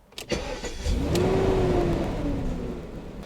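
The engine of a BMW E38 750iL turns over and catches, then runs with a rising, steady mid-pitched hum and whir, close to the microphone.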